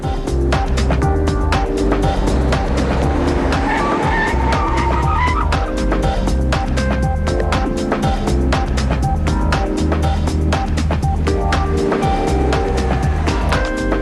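A large luxury sedan brakes hard from 100 km/h to a full stop in 41 meters, tires squealing and skidding, loud and close, the engine noise and tire scrub continuing over several seconds.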